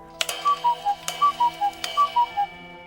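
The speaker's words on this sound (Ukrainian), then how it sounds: "Саме у цю мить відчинилися дверцята старовинного зачарованого годинника." An old enchanted clock in a fairy-tale shop ticks with sharp clicks about every 0.8 seconds, each followed by a repeating three-note descending chiming whistle, clear and close with no voices.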